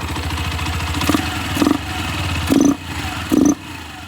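A Fiat Doblo engine with its air filter removed revs in four short bursts over a steady mid-pitched idle, each blip rising briefly and then dropping back, close and fairly loud.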